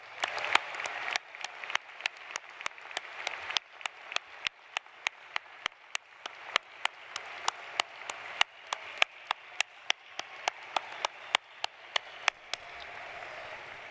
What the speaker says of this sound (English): Let's applaud, please.